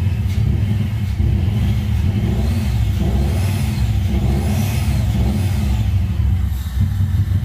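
A car engine, checked while fixing a P0172 fault code, revs as the gas pedal is pressed, a loud close rumble rising and falling in a few surges with a steady idle underneath.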